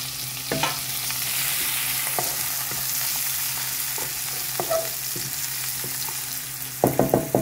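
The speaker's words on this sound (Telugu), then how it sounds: "జీలకర్ర వేసిన తర్వాత చేసి పెట్టుకున్నాం కదా ఒక ఉల్లిపాయ, ఆ ఉల్లిపాయ తరిగి వేసేద్దాం." Chopped onion and cumin seeds sizzle in oil in a pan, a steady hiss punctuated by spaced spatula knocks and scrapes, with a quick cluster of clattering stirs near the end.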